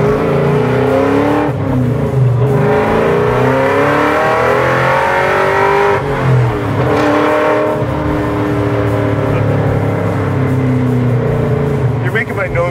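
Supercharged 5.4-liter, 800 hp 1967 Ford Mustang driving, a loud deep engine roar heard from inside the car, with pitch rising and falling through shifts, while voices talk over it.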